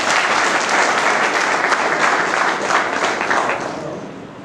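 Audience applause at a school event fills the whole span as dense, steady clapping from a large crowd close by, easing off slightly at the end.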